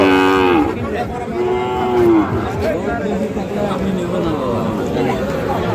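Several cattle, Sahiwal bulls and calves at a cattle market, moo loudly over a busy background of people chattering, the low calls stretching out one after another.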